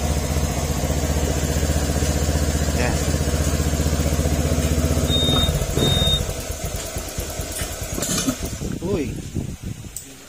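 A motorcycle fitted with a 62mm bore-up kit idles steadily nearby, a chugging mid-pitched engine note that stops partway through, followed by clinks and someone speaking.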